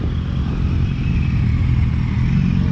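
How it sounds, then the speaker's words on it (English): A motorcycle riding down toward the advanced braking zone at a training session, heard as a constant rumbling engine drone mixed with wind noise, steady and fairly loud with no talk. "Looks like Murray's on his way down to the advanced braking zone."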